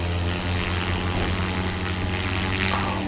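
Paramotor engine throttling up for takeoff, a loud, steady propeller buzz with a dense roar right up close, holding strong over the full few seconds.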